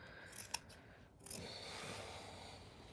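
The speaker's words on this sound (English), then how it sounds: "all I do here is literally just take my scissors and cut" Scissors snipping through T-shirt fabric for a quilt: a few crisp close blade clicks near the start, then a longer soft rasping cut, quiet and alone.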